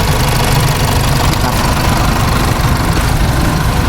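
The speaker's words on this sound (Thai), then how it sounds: "เครื่องยนต์เครื่องยนต์เดินนิ่งๆแบบนี้" A pickup truck engine idles smoothly and steadily, a continuous close rumble with no breaks. The truck is a single-cab off-lease model with an enclosed box body and sliding door.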